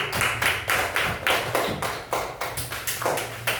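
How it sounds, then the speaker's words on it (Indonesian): A small group claps in a steady, even rhythm, about a dozen sharp claps close by with nothing else heard. "Tepuk tangan."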